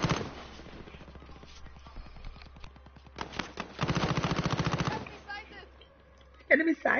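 Call of Duty Warzone gunfire: bursts of rapid automatic shots, loudest in a steady rattling volley midway, with sharper single reports near the end and game sounds between.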